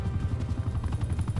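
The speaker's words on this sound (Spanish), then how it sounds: "¿Por qué están tumbando mi helicóptero?" Helicopter in the video game Call of Duty: Black Ops Cold War, a steady rhythmic rotor thumping at moderate volume for a brief moment with no talk over it.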